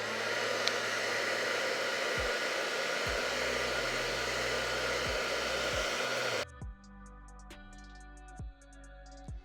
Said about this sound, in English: And then take my dryer.